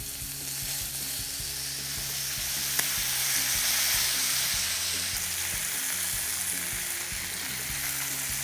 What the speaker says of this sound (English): they're sizzling away in all that lamb fat